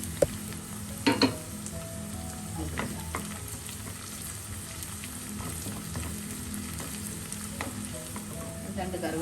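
Green chillies sizzle and fry in hot oil for a ginger curry, a steady close crackle with a few stirring knocks near the start and no voices.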